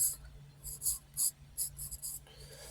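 A pencil sketches feet on paper in short scratchy strokes, several bursts of close, quiet scraping with brief pauses between them, no talking.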